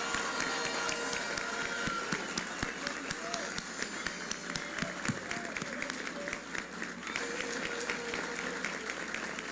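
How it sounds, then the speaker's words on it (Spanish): Audience applause for election candidates, a dense sustained wash of clapping from a crowd that continues steadily throughout with speech mixed in underneath. "que le demos un aplauso por la democracia de nuestro país"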